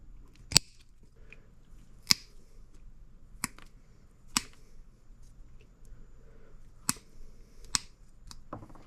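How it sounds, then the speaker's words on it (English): Sharp, isolated snips sound about six times at irregular intervals as a hose clamp is cut off a cooling system fitting during a 2003 Sea-Doo GTI RFI engine replacement. Each cut is close and crisp against a quiet background. "we're going to go ahead and cut this clamp off"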